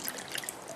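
A bottled mineral water sample, pH 9 with minerals added for taste, poured from a freshly opened sealed bottle: a brief, close splashing trickle of liquid with no voices.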